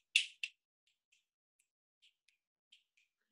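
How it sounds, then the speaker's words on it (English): Two crisp, close finger snaps in quick succession, followed by faint scattered clicks and taps in otherwise quiet surroundings. "or you can snap your fingers"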